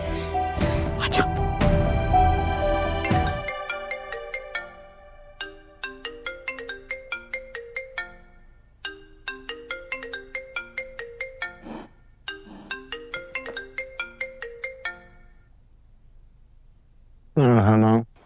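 A phone rings unanswered in a drama scene, a repeating electronic ringtone melody in regular bursts with short pauses between phrases, loud and close, opening over a dense musical swell before the rings continue alone.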